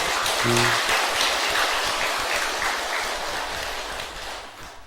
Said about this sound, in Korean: 이게 합장을 박수로도 할 수 있는 거예요